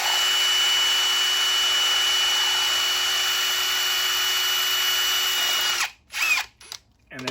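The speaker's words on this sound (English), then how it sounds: "Put the Torq washer in the vice grip, 1/8 inch drill bit, and just carefully" A 1/8 inch bit bores steadily through a Torx washer clamped in vice grips, whining continuously for several seconds, then stopping, with a few short bursts of drilling after it.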